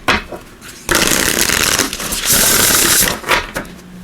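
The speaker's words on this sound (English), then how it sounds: "Let's give it a couple shuffles here." Oracle cards are shuffled close by in a few bursts of crisp riffling and flapping, with short pauses between them.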